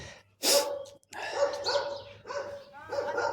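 A dog barks close by outside a village home, loud repeated barks in uneven bursts, with panting between them.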